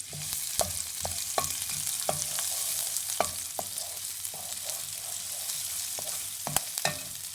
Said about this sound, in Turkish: Küp küp kestiğim soğanları ekledim. Soğanlarım biraz pembeleşsin.